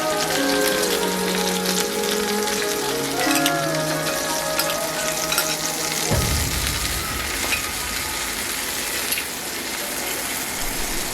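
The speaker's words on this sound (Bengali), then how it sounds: "ততক্ষণ ওটাকে ফ্রাই করতে হবে।" Teriyaki chicken pieces frying in a pan over a medium flame, a loud, steady close-up sizzle lasting throughout, while background sounds fade partway through.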